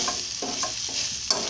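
Broad beans fry with crushed garlic and chili powder in a pan, a steady sizzle broken by three scraping stirs in quick succession, close and clear.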